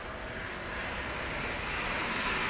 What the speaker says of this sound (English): So here comes Lufthansa.